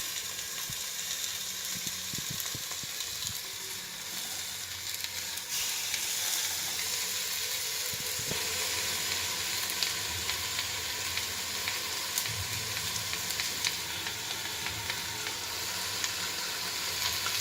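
Pieces of meat frying in a hot pot with no added water, a constant loud crackling sizzle with occasional stirring scrapes and no voices throughout.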